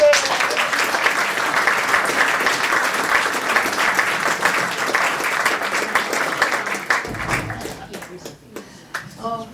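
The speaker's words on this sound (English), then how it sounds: "please give a warm round of applause" A crowd applauds loudly and steadily as a speaker is welcomed at a talk, the clapping thinning out toward the end as a few scattered claps and murmurs remain.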